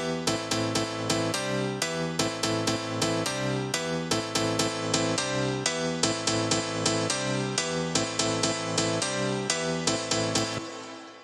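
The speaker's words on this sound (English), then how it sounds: "You can also add in more notes to kind of add more harmonics to the sound." House piano chords with extra notes stacked an octave up and down for added harmonics, playing a steady rhythmic pattern of repeated stabs, loud and alone for about eleven seconds before cutting off.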